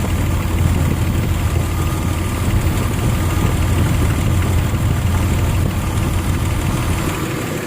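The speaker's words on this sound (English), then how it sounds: "This is why it's important that the engine has to idle with everything off." A Nissan Xterra engine idles with everything switched off after a timing belt replacement, a loud, steady low rumble with a constant hum and no speech.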